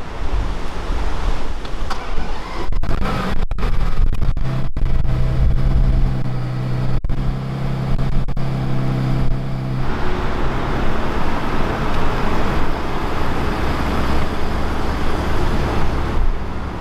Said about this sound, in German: Schau mal, was die 12 Zylinder können.